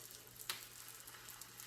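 Egg white frying in a pan of leftover bacon grease, a soft steady sizzle with a faint crackle throughout, close and quiet with no talk.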